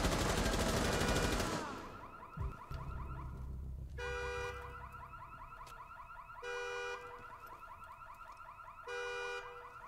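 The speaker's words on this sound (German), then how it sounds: "hier hupt das Auto permanent. Die Alarmanlage." A car alarm in the video game Rainbow Six Siege blares in repeating electronic bursts with short gaps between them, loud and close, after a brief burst of rushing noise at the start.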